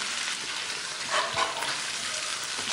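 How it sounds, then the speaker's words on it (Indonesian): Spice paste sizzles and crackles steadily in a hot pan as boiled squid is stir-fried and stirred into it, close and continuous, with no talking. "kita aduk-aduk lagi. Biarkan nanti tercampur rata, kita gongsong dulu sama bumbunya sebentar"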